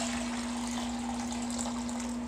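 Hot water pours out of a container in a steady, fairly faint rush over a low electrical hum, with no voices.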